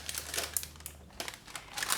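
Paper crinkles up close as a layer is laid down while making pâte de fruit, in several short, rustling bursts with brief pauses between them and no talk.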